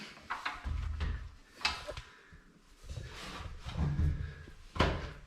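A small interior door in a house being cleared out for renovation is opened, giving several soft wooden bumps and knocks spread unevenly over a few seconds, close by and fairly quiet.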